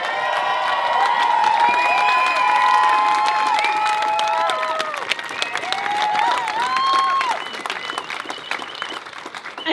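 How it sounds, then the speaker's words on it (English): Crowd at a university rally to save an art college applauds staff, sustained clapping with cheering and whistling voices rising over it, gradually thinning toward the end. "So a big round of applause for them."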